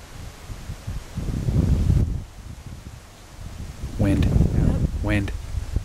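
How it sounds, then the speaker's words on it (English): Wind gusts and rustles through forest leaves along a trail, a broad airy swell that rises and falls, with a voice calling out long whooping sounds toward the end. "Wind."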